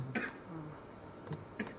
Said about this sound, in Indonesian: masih batuk kan?